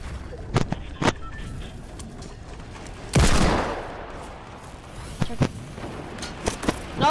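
Gunfire in the Fortnite video game: several sharp shots, a dense burst of rapid fire in the middle, and more scattered cracks near the end, with faint game ambience between the bursts.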